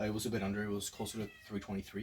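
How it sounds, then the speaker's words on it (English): A house cat meows several times in short, tonal cries that overlap with a person talking nearby. "that's my cat"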